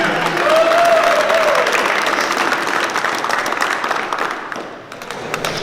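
An audience inside Pelican Bay prison gives Mr. Rodriguez another round of applause, loud dense clapping that swells early then gradually thins and fades toward the end.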